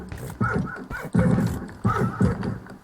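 A horse in the Minecraft video game gives several short whinnies and snorts up close, in a choppy rhythm of three or four bursts with brief gaps and no talk.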